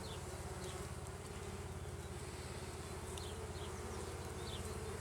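Bees drone in a low, continuous buzz inside a Japanese-style beehive in 2019, with occasional individual bees flitting past more clearly against the steady hum.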